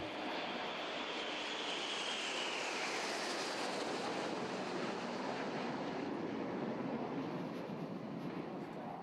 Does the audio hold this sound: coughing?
no